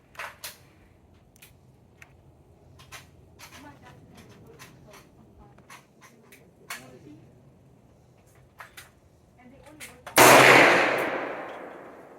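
A pistol fitted with a 3D printed universal chassis fires one loud, sharp shot at an outdoor range. The bang follows a stretch of quiet handling and rustling, and its noisy tail decays over about two seconds.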